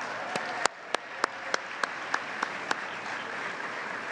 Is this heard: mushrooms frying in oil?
no